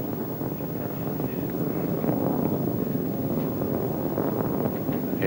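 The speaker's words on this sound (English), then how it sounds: "Engines reporting burning well, solids reported burning well." Rocket engines and solid boosters roaring during a space launch, a broad distant rumble with wind-like rushing that swells slightly and holds steady throughout.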